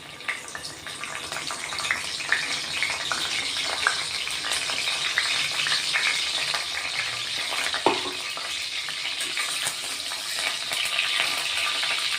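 Asafoetida sizzling in hot oil in a pan for Khandeshi stuffed brinjal, a continuous close crackling fry with occasional sharper spits and a brief stir, no voices.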